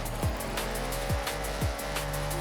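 A racing car in Forza Horizon holds a high, buzzing engine note while its tires squeal steadily. Three sharp sweeps like gear shifts or rev drops cut through the constant roar.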